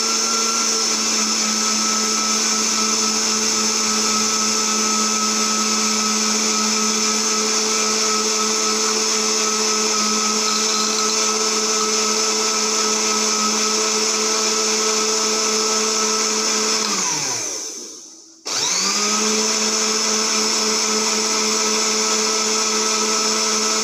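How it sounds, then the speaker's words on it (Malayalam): Blender whipping a strawberry milkshake made with condensed milk, a steady loud whirring hum that runs continuously, dips briefly to a stop near the end, then restarts at full speed. "ഇനി നമുക്ക് നന്നായിട്ട് അടിച്ചെടുക്കാം."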